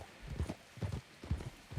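Horse hooves clip-clopping in the Western game Red Dead Redemption 2, four clear paired hoof strikes at an even walking rhythm, close and distinct, with no talk.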